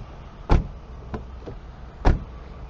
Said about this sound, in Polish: dźwięk zamykania i otwierania drzwi elegancki, pełny, nie ma tutaj żadnego rezonansu z tyłu